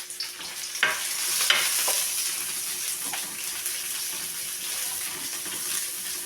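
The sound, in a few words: sautéing garlic and onion in a pan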